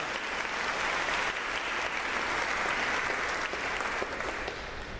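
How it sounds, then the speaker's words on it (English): Sustained audience applause at an awards ceremony marking a 20th anniversary celebration, dense steady clapping from a large crowd filling the room throughout. "We all applaud you."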